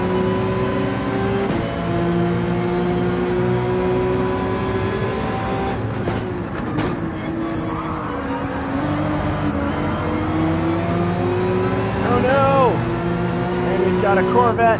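A Ford Mustang engine in Gran Turismo 7 roars steadily and loudly, holding a sustained drone with shifting revs and a couple of rising pitch sweeps near the end, while a voice talks over it.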